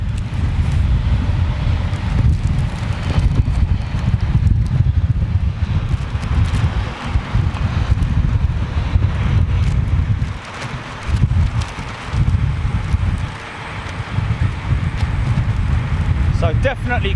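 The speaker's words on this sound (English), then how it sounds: "so definitely crosswind south westerly at the moment" Strong south-westerly crosswind buffeting a microphone outdoors at London Heathrow airport after a heavy downpour, a loud continuous low rumbling gust noise that swells and dips throughout.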